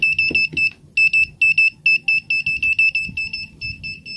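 An Arduino-driven flood early-warning buzzer on a dam gate control system beeps in a steady train of short, loud, high-pitched bursts, about two or three each second, with faint low background handling noise beneath.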